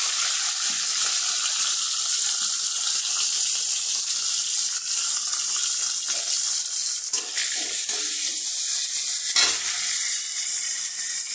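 Panch phoron spices and cumin sizzle steadily in hot oil as a dal tempering is browned, a loud continuous frying hiss with a few soft stirring clatters and no talk.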